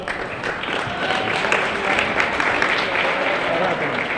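Crowd applause at a girls' basketball game between NAC and NCCS, a steady wash of clapping filling the gym under broadcast commentary for about four seconds.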